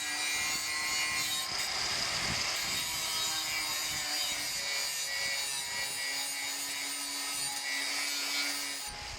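Bolt holes being widened in a steel sump guard for a Land Rover Freelander 1, a continuous harsh grinding rasp at close range that runs on steadily without pause and with no talk.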